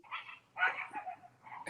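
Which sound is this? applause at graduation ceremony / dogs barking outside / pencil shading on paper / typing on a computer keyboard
dogs barking outside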